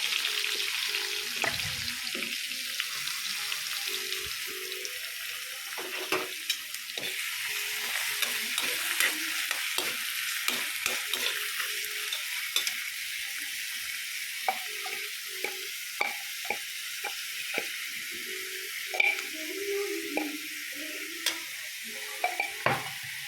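Ginger-garlic paste sizzles and fries in hot oil in a wok, a steady close hiss broken by frequent scraping and stirring knocks of a spatula, with no talking.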